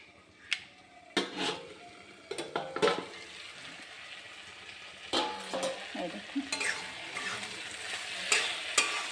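Sizzling oil crackles in a pan of frying potatoes and eggplant while a spatula scrapes and stirs in irregular bursts, with occasional clinks of utensil against metal.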